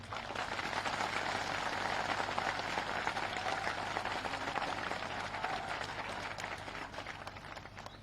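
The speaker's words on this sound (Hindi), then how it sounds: "एक बार चंबल की तालियां नरेंद्र सिंह जी के लिए हो जाए" Sustained applause from a large crowd at a political rally in Morena, Madhya Pradesh, dense clapping that holds steady for several seconds before tapering slightly at the end.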